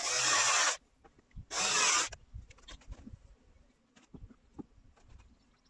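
A handsaw cuts angled pieces of 2x4 wood in two loud rasping bursts, followed by quieter knocks and handling of the offcuts, close up, with no talking.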